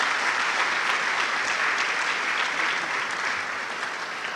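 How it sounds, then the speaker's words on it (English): Steady, dense applause from a large audience at the KNUST E-Learning Week 2025 event, a continuous wash of many hands clapping that fades slightly toward the end, with no talking over it. "please, a round of applause for him."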